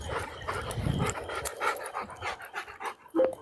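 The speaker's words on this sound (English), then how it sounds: "I'm walking my dog. I hear your doggy." A dog pants rapidly and heavily close by, breathy and rhythmic, with a brief whimper near the end.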